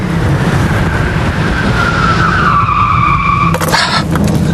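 A car brakes hard, its tyres skidding in a loud, sustained squeal that slides downward in pitch and ends in a short clatter.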